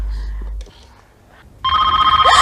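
A loud electronic phone ring starts after a brief pause, warbling in a steady repeating pattern.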